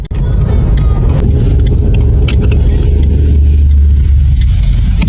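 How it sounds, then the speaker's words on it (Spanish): Road traffic rumbles past close by, a loud sustained roar of a car with deep low-end rumble and a swell in the middle, continuous for several seconds without talk. "Aquí viene mucho auto."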